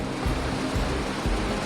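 River water from Eagle River Falls rushing over an old wooden dam during snowmelt, a steady, loud, broadband roar with low surging pulses.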